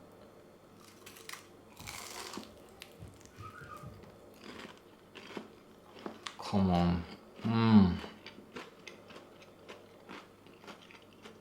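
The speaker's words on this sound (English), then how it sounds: "You can hear the crunch." Two loud, close crunching bites into crispy Japanese fried chicken topped with lemon and dipped in Kewpie mayonnaise, heard between brief spoken words and small handling clicks.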